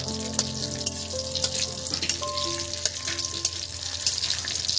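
Raisins frying in ghee make a close, crackling sizzle with small sharp pops scattered throughout, steady and moderately loud.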